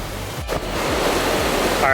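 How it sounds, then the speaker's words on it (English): Water rushes steadily along a hiking trail, a continuous broadband roar close to the microphone throughout, with a brief high whistle-like tone near the end. "A lot of water noise, obviously."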